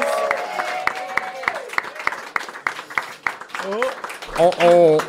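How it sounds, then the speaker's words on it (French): An audience claps for runners who finished a 170 km race, a light scattering of distinct hand claps under a voice that keeps talking throughout, with other voices rising near the end. "Ben, René, Mathieu, on les applaudit aussi"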